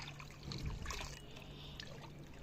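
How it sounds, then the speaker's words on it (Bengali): Water left from soaking vegetable peels is poured out for liquid compost fertilizer, a soft trickle and splash that swells briefly and then runs faintly, close by, with no talk. "খোসা বেচানো জলটা ঢেলে দিলাম একটু পাতলা দেখো কতটা পাতলা হয়েছে"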